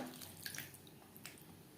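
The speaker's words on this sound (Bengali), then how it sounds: "দিয়ে দেবো জল" Water is poured into a pan of sautéed spices, potato and pointed gourd for a vegetarian curry, giving a faint, continuous splashing trickle with no talking.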